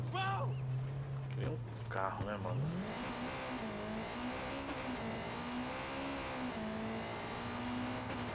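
A car engine in the video game Watch Dogs 2 revs up and holds a loud, steady drone with rising and falling pitch, after a short idle, under game music and effects.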